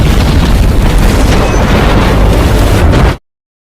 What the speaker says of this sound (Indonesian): tiba-tiba terjadi ledakan di tebing yang mengakibatkan truk itu jatuh ke jurang.